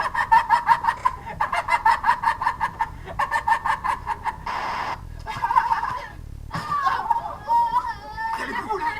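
Chickens clucking in rapid, rhythmic bursts of loud calls close by, with a rising squawk near the end and voices talking over parts of it.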